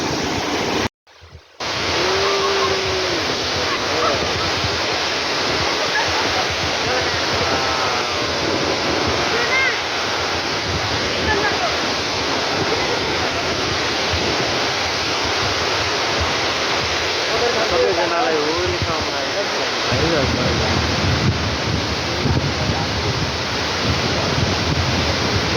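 Sunchhahari waterfall in Nepal rushes with a loud, unbroken roar close by, after a brief cut near the start, while several people talk excitedly over the water throughout.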